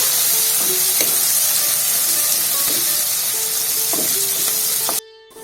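Ivy gourd (dondakaya) pieces frying in hot oil with salt, a loud, dense, continuous sizzle with occasional stirring clicks, cut off abruptly near the end.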